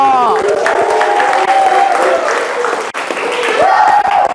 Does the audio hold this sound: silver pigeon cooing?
no